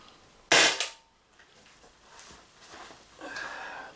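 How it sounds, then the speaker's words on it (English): Umarex Impax P68 air pistol firing an MCS Kinetics 4.6 gram pellet, a single sharp close crack followed by a quick decay, then quiet rustling and faint handling noise. "So last three shots will be with the MCS Kinetics."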